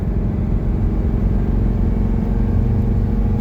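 A 1985 Mercedes 300D diesel cruises at 60 mph with a steady low engine rumble and road drone inside the cabin, no talk.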